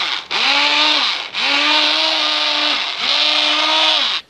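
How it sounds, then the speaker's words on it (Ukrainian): A kitchen blender whirs loudly in three long runs with short pauses between them, while Ukrainian veal with walnuts and a sour cream sauce is being prepared. The steady motor pitch rises and falls slightly, and no voices are heard. "А тепер, маючи блендер."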